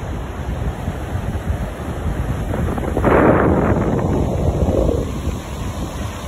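Strong wind buffets the microphone on a beach while rough ocean waves crash and surge loudly nearby, the roar swelling midway and then easing slightly.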